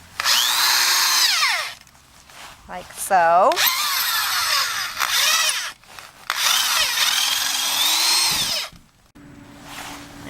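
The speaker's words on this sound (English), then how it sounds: "Now I have a nice tool on the end of my drill that helps me dig my holes" A power drill fitted with an auger bit digs holes in garden soil during a fall clean-up, whirring loudly in several long bursts with brief stops, someone talking in between.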